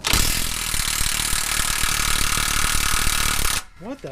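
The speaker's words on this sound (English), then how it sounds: "So it's a 17mm bolt, and I'm going to use my Dewalt impact gun." DeWalt impact gun hammering on a 17mm shock absorber bolt on a Toyota FJ80 Land Cruiser's rear axle, a loud continuous rattling burst for about three and a half seconds, then cutting off abruptly as a voice begins.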